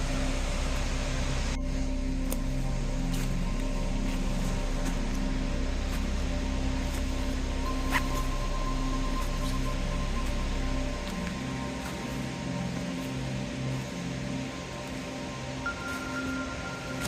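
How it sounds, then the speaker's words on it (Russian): De Soto Falls in a wooded autumn canyon of the Appalachians gives a steady, unbroken broadband roar, loud and close, with no voices over it. "И водопад Де Сото."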